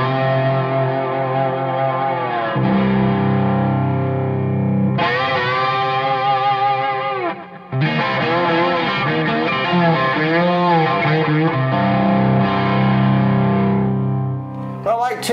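Electric guitar through a Pro Analog boost into a GS124 amp, heavily distorted sustained notes and slides with a brief pause midway, loud and close.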